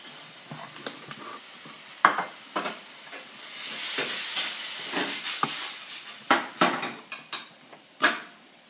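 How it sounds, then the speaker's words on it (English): Bacon is returned to a hot frying pan, where it sizzles and hisses while a utensil stirs and scrapes, giving a close, steady fry punctuated by sharp irregular clinks and knocks, with no talk. "Next, we're going to add back our bacon."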